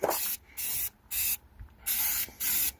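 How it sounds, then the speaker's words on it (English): A spray paint can hisses in five short bursts separated by brief pauses, close and steady, with no talking, while refinishing old Freightliner day cab truck frames. "We switched over to spray cans now."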